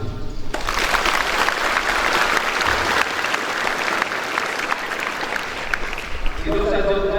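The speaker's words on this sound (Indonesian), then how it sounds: "Tepuk tangan dulu." Sustained applause from a crowd of health students at a November school ceremony in Indonesia, a dense steady wash of many hands clapping for several seconds before fading as a voice returns at the end.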